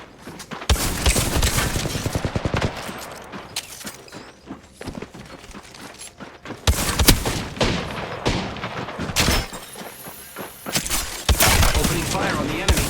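Enemy fire in a shooter video game: loud rapid bursts of gunshots crackle up close, repeating in several volleys with brief lulls between them.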